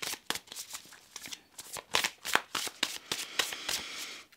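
Tarot cards are shuffled by hand in a quick series of crisp riffling flicks and soft slaps, close and fairly quiet, with no speech.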